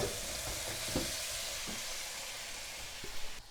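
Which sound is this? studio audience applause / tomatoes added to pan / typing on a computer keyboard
tomatoes added to pan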